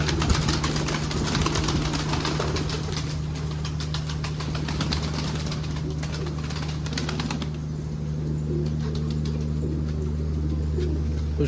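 Pigeons coo at close range over a steady, droning engine-like hum that continues throughout.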